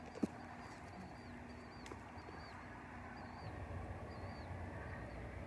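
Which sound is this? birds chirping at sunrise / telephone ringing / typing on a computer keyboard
birds chirping at sunrise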